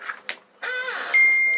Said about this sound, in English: silence my phone